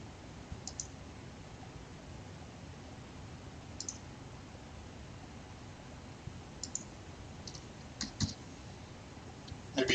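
Typing on a computer keyboard, sparse faint key clicks in short clusters against a steady background hiss, quiet and somewhat distant.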